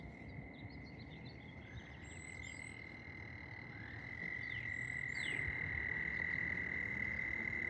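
Frogs croaking in a steady chorus outdoors near fishing water where alligators live, with a persistent trilling drone and some sharper individual calls, growing slightly louder toward the end, with no talk.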